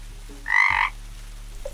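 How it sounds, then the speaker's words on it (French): Single frog croak from frogs in the water in a French animated cartoon, one short, clear, loud ribbit-like call over quiet background hum. "Il y a tellement de grenouilles dans l'eau !"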